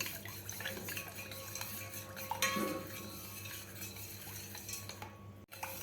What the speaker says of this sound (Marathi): आता आपल्याला व्यवस्थित हलवून घ्यायचं आहे.